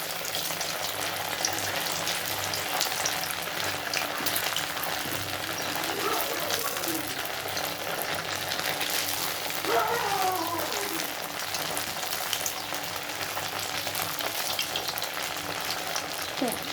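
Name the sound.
cabbage paneer pieces frying in oil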